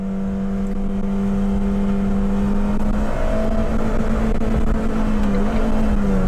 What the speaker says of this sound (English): It has no idea that I'm throwing it into reverse.